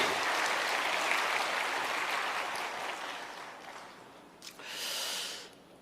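Church congregation at a Sunday worship service clapping together in sustained, dense applause that gradually thins and fades, with a brief swell of breathy noise near the end.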